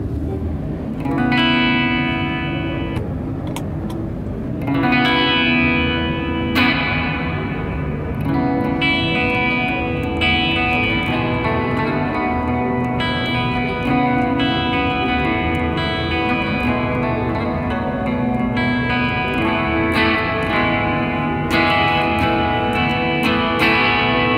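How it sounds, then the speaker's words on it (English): Electric guitar chords and melody ringing through an Electro-Harmonix plate reverb pedal, a smooth, dense wash of sustain filling every gap, steady and loud throughout. "this terrific plate reverb that is based on the plate setting in our Cathedral stereo reverb"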